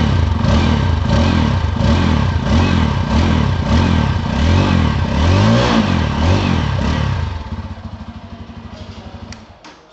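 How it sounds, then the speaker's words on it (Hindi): A 2022 Bajaj Pulsar N250 motorcycle exhaust revs in a series of loud, close, rhythmic throttle blips, then drops to a lower, steady idle that fades near the end. "तो ये है इसका एग्जॉस्ट साउंड"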